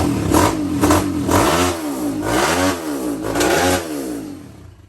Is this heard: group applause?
no